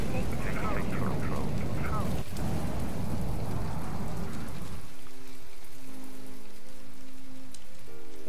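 Rain falls steadily in the naval combat game From The Depths during the Ashes of the Empire campaign, a dense broadband hiss that drops away after about five seconds, leaving faint low tonal hums.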